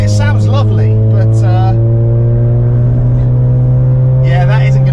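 A Mazda RX8's 13B rotary engine runs with a loud, booming exhaust, a steady deep drone heard up close from inside the car, with a voice talking over it for the first couple of seconds.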